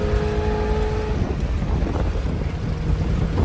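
A vintage RV with newly fitted modern fuel injection accelerates under light throttle while driving, its engine droning steadily, close and loud, beneath heavy road and wind rush, with no talk.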